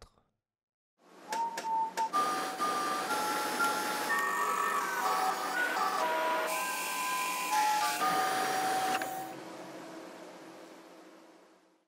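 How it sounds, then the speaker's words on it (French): A Sidamo XC30L 30-litre wet and dry vacuum cleaner switches on after a brief click, then runs with a loud whining motor hum and shifting tones for several seconds before winding down. "je suis là aujourd'hui pour vous présenter le nouvel aspirateur de la marque Sidamo, le XC30L"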